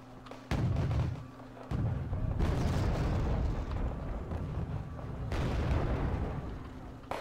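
Heavy gunfire and explosive impacts hit M1A2 tanks in a video game, loud rumbling bursts that rise and fall over several seconds with short gaps between them.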